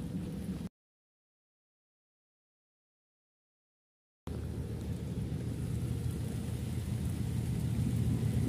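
Steady rain falling outdoors near a railway line in stormy weather, a dense constant hiss that drops out completely for a few seconds mid-way, then returns loud and close.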